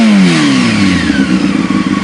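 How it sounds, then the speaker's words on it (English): Loud, close motorcycle engine: a revving note falls back as the throttle closes, then settles into a low, rumbling, lumpy idle. "I'm gonna go ahead and rev it up real quick."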